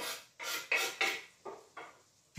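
A spoon stirs a pot of chicken-wing stew after macadamia nuts are added, scraping in six steady strokes, loud at first and then softer, with no voices.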